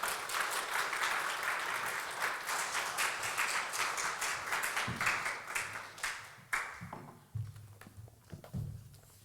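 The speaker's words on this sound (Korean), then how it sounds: "박수로 환영하면 좋겠습니다." A church congregation claps warmly to welcome a guest speaker from the Presbyterian Church in Canada, many hands applauding steadily for several seconds before thinning into scattered claps.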